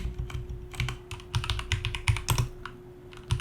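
Fingers type a Dokku command on a computer keyboard, giving close, crisp key clacks in quick, uneven bursts over a faint steady hum.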